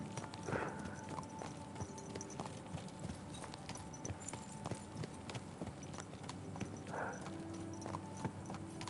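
Horse hooves clip-clop at a steady walking pace in the medieval video game Kingdom Come Deliverance 2, moderately close over a dense ambient background, with a couple of brief snorts or whinnies rising above the hoofbeats.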